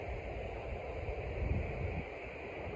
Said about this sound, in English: The wind is pretty windy.